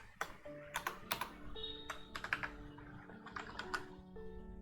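Typing on a computer keyboard during a Bengali programming lesson on tuples, with quick clustered clicks and short bursts of keystrokes, close and clear, and no speech.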